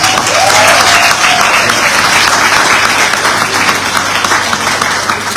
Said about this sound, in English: give the Global Campus Dominica a round of applause